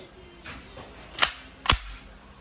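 A KWC CO2-powered full-metal steel ball airgun submachine gun fires twice on semi-automatic, two sharp, close cracks about half a second apart with quiet handling sounds before them.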